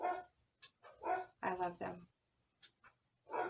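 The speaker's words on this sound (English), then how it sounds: "please excuse my dogs" Several dogs bark in short bursts close by while a person talks over them.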